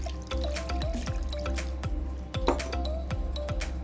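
Water is poured into a pressure cooker holding raw mutton and turmeric: close, steady trickling and dripping with small splashes over a low kitchen hum, no talk.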